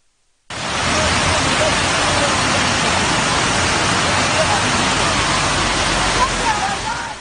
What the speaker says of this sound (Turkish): Ankara'da hafta sonu boyunca aralıklarla devam eden yağmur nedeniyle metro merdivenleri şelaleyi andırdı.